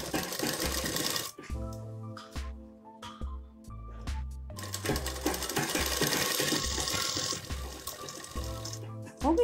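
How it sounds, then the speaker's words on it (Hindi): A sewing machine stitches a palazzo waistband belt in bursts of rapid mechanical whirring, stopping and restarting several times and running loud and close, with no voices. "अब इस पे सिलाई लगा लेंगे"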